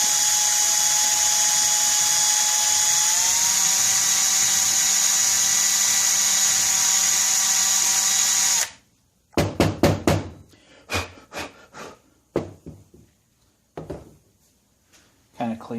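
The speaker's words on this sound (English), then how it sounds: "fold up the Scotch-Brite pad, slide it on in, and hone away" A drill spins a folded Scotch-Brite pad inside the carburetor of a 1959 Riverside Silver Pigeon by Mitsubishi, giving a steady high whine for about eight seconds that stops abruptly, followed by scattered clicks and knocks.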